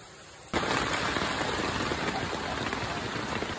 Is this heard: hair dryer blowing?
no